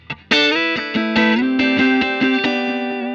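An electric guitar played through an Xotic RC Booster pedal at low gain rings out in a sequence of picked notes with a lightly overdriven, sustained tone.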